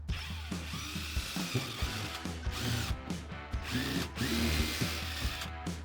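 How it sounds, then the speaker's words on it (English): A power drill whirs steadily while drilling a pilot hole, its motor pitch rising and dipping as it bores into material, with brief pauses and mechanical ratcheting along the way. "Pre-drill a hole."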